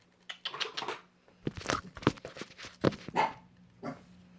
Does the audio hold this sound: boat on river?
no